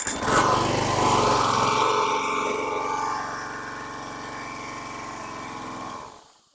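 A worn-out junk lawn mower engine runs rough and steady on half choke, a loud close drone that drops in level partway through, then sputters and dies, leaving silence at the end.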